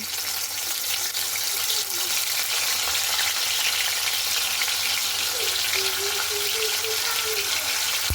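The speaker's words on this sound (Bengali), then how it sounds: "এরপরে মাছগুলোকে আমি দিয়ে দিচ্ছি।" Hilsa fish frying in smoking-hot mustard oil in a wok, a steady broadband sizzle that holds loud and even throughout, with faint background clatter and no talking.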